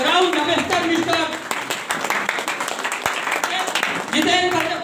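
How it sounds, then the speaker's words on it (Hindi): An audience at a ceremonial awards event claps and applauds, a dense patter of hands running the whole time beneath a loud announcer's voice over the sound system. "जबरदस्त तालियों की गड़गड़ाहट बिल्कुल"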